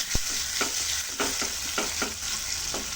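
Onions frying in a pan for a tempering, sizzling steadily while a spoon stirs them in several distinct scraping strokes, close and fairly quiet.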